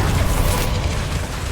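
Bombarda spell explosion in Hogwarts Legacy, a loud sustained booming blast with dense low rumble that stays heavy throughout, with no voices.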